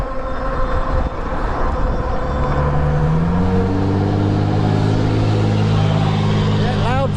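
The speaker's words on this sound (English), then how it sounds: "That loud truck again." A loud truck engine rumbles past nearby on a street, its deep drone rising and shifting in pitch, mixed with traffic noise and some talking.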